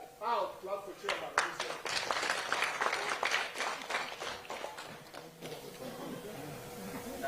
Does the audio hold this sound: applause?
yes